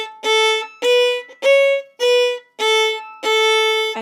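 Fiddle plays a simplified tune as six even, separate bowed notes without dotted rhythm, each a clear sustained tone with rich harmonics, loud and close with no talking.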